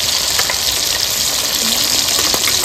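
Mustard and poppy seed paste, ground from white and black mustard with poppy seeds, hits hot oil over a tempering of dry chilli, nigella and tomato, giving a loud continuous sizzle close by without pause.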